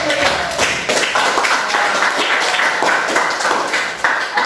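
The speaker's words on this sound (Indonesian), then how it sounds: "kasih tepuk tangan keempat" A school class claps together in steady, rapid applause, close and loud, with bright sharp hand slaps throughout and a faint voice underneath.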